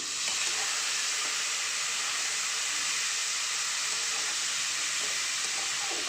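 A small splash of water hits a pan of frying turmeric and ground ginger, giving a loud, even hiss of sizzling steam that holds steady from start to finish.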